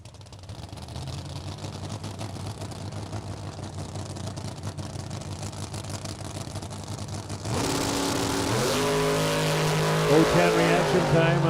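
A 1981 Camaro on an eighth-mile drag strip idles with a steady engine drone, then launches into a loud, rising roar partway through, with an announcer talking over it.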